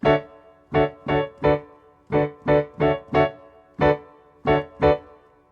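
Piano chords struck with both hands at once, about a dozen short, punchy hits in a rhythmic pattern, each decaying quickly into near silence.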